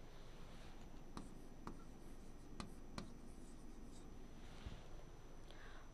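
Pen or pencil writing by hand during a first-grade maths lesson, soft scratching strokes with a few short sharp taps against steady faint background noise, no talking.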